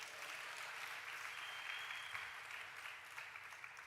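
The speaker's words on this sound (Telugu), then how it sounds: "చప్పట్లు కొట్టండి." A church congregation claps together in a large room, a sustained, even wash of applause heard from a distance.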